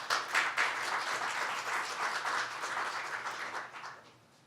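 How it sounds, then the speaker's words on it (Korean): Audience applause welcoming a guest speaker at an agricultural policy forum and results presentation in Korea, a steady dense round of clapping across the hall that fades out near the end. "큰 박수로 환영하겠습니다."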